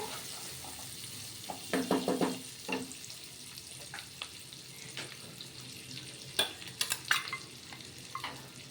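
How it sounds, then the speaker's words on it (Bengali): Onions frying in a pan for chilli potato, with a quiet, even sizzle and scattered clattering stirs and scrapes that cluster into a few louder bursts. "পেঁয়াজ ভেজে নিচ্ছি"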